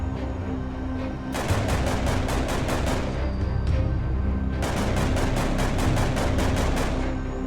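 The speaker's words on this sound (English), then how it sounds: "The next weapon I made is an AKM. With very high damage, I can destroy all fungus variants." An AKM rifle in Minecraft fires in two loud, rapid automatic bursts, each a dense string of sharp shots, separated by a short pause with a steady ambient hum underneath.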